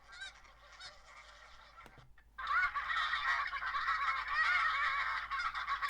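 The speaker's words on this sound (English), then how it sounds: "That's more of a Snow Goose feed call." A recorded electronic-caller track of snow goose feeding calls plays, with scattered honks and gurrs at first, then after a brief gap a dense, steady chorus of many geese calling at once, moderately loud.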